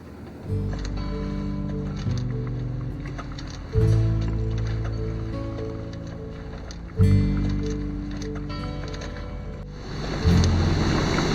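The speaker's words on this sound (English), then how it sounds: "we'll start the engine and putter along" A boat engine putters with a low, steady chug, rising in surges a few times, with water and wind noise around it and no talk.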